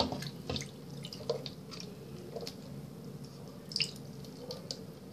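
Water drains quickly from a lidded container of orbeez through its strainer top, heard as soft trickling with scattered drips and small wet clicks, fairly quiet and without talking.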